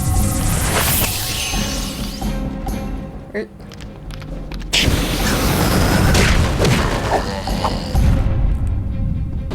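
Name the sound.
fireballs shot by Spyro in The Legend of Spyro: The Eternal Night video game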